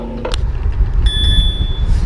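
Bell of an iZip E3 ProTour electric bike: a single clear ting that rings on and fades over about a second, over low rumbling outdoor noise.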